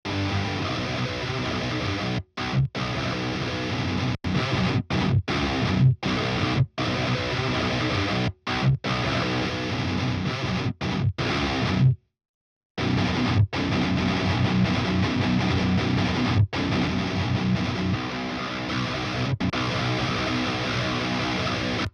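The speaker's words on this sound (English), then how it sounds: "heavy distortion" An electric guitar plays through a heavy distortion and tube-drive saturation, producing thick, buzzing, sustained chords that are cut by repeated abrupt stops and one longer silent gap.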